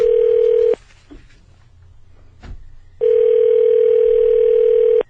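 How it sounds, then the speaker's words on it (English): A landline telephone dial tone sounds as a loud, steady hum, breaks off for a couple of seconds of near silence with a faint click, then returns just as steady until the end. "Let me see if I can get him on the phone."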